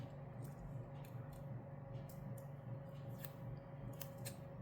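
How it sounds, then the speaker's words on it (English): Quiet scissors snip a paper planner label, trimming it along the edge with a few soft, crisp cuts over a low background hum. "I'm just going to trim it right on the edge"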